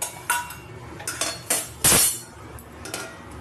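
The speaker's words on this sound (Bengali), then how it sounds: "এবার আলুর দমটাও আমি ঢাকা দিয়ে দেবো" A metal lid set down over a pot of potato curry on a stove, giving a sharp clanking clatter with a few lighter clinks of cookware around it, close and alone.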